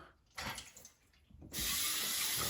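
Tap water runs and splashes while dishes are rinsed by hand at a kitchen sink, starting and stopping before a steady loud stream takes over near the microphone.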